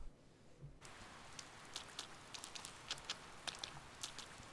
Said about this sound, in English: It's been raining for a few days